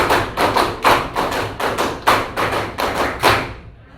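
A class of high school students claps in a clap-five pattern, about eight sharp, evenly spaced group claps in quick rhythm filling the room, ending cleanly.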